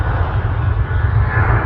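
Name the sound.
Jet2 aircraft engine rattling at Manchester Airport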